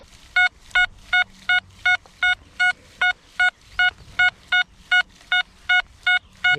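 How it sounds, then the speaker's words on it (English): Steady, evenly spaced chirps from an XP Deus metal detector set to its Coin Deep program, about seventeen sharp electronic target beeps repeating in regular rhythm, loud and close with almost no background. "the Coin Deep has got much more of a boosted signal"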